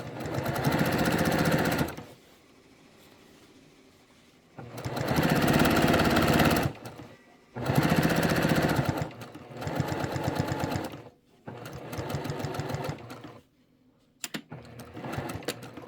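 Sewing machine stitching through thick quilt layers, loud bursts of rapid stitching of a few seconds each, broken by short pauses and some quieter running between.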